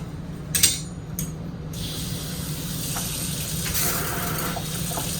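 The water pump runs in a new 2024 Sporttrek 333VIK RV and water starts flowing, beginning with a few short bursts and sputters, then settling into a steady rushing spray over a low pump hum.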